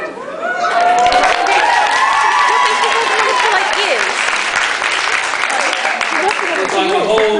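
An audience at an evening author event in Nottingham breaks into loud, sustained applause and cheering with whoops, the crowd noise swelling after a brief start and continuing strongly to the end.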